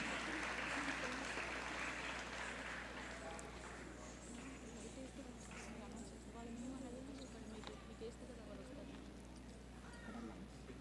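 Audience applause at a tribute program welcoming a group of young students, steady dense clapping throughout at moderate distance, with a voice talking over it.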